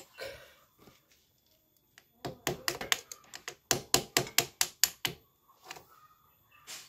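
A run of sharp metallic taps on a part of a stalled Yamaha Jupiter motorcycle engine that has lost compression, quick and rhythmic, struck close by in a quiet space, followed by a few softer knocks.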